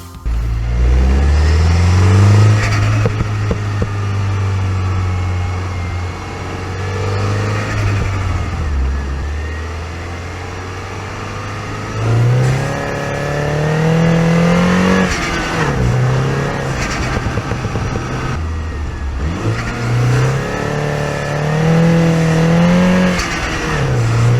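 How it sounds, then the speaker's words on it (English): A car engine with a stock intake pipe revs repeatedly, rising and falling in pitch with a steady idle rumble between bursts, loud and close, no voices. "let's hear what the stock pipe sounds like"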